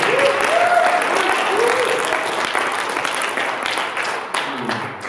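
Audience applause for a student government candidate fills the room as dense, steady clapping from a sizeable crowd, with a few voices calling out briefly and the clapping thinning toward the end.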